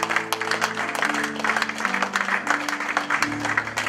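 A church congregation at a thanksgiving service claps and cheers continuously, dense rhythmic applause over a low sustained chord from an instrument that shifts pitch several times, with a few voices mixed in.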